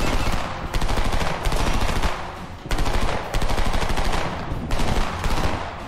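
Sustained automatic gunfire in the shooter Homefront, dense rapid bursts rattling almost continuously for several seconds with only brief gaps between volleys, loud and close, with no talk over it.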